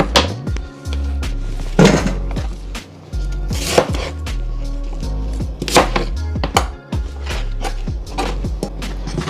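A knife chops through cucumber with the skin on against a cutting board, a series of sharp, close knocks in an uneven rhythm with louder strikes scattered among lighter taps, no talking.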